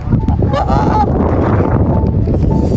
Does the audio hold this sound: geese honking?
yes